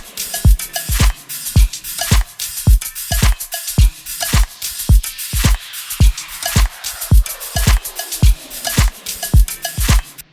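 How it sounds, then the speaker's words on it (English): Programmed drum beat in Logic Pro X with a crisp hi-hat pattern over punchy kick hits, steady and loud, looping evenly throughout. "So down here, we've got some hi-hats."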